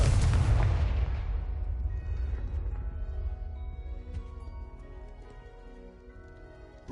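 In Hogwarts Legacy, the Confringo spell sets off a loud booming explosion that hits at full force and then rumbles away over several seconds, with no voices.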